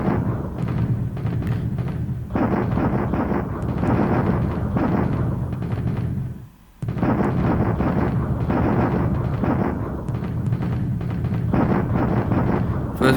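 Heavy, continuous rumbling bombardment from a War in the Pacific artillery barrage, dense booming blasts filling the whole stretch with one brief drop to near silence midway.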